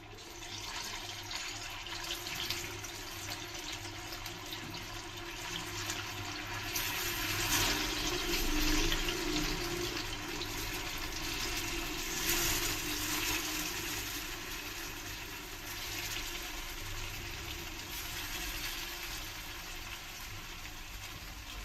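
Chicken 65 pieces, street-style, dropped one by one into hot oil, giving a continuous close sizzle and bubbling crackle that swells slightly midway and holds steady throughout.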